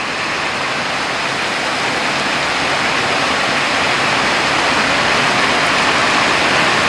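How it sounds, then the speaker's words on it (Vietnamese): Heavy rain blows in under cover at an old woman's house, a loud, unbroken roaring hiss holding steady for several seconds without speech. "Mưa nó tạt vào đây luôn rồi."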